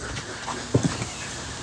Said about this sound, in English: is that the dog?